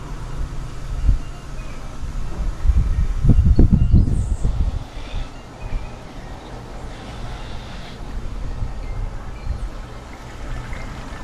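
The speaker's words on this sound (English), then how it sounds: "I'm gonna have the toilet flush, and so you could see how it works" A toilet flushes into a small DIY mini septic system, water rushing and gurgling in a swelling burst that peaks and then trails off into a quieter trickle over the remaining seconds.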